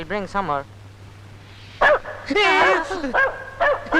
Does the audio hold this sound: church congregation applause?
no